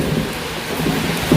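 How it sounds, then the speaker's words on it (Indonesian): Heavy rain pours steadily on a surface in a chicken pen at dusk, a loud continuous wash with no voices. "Tiba-tiba hujan teman-teman."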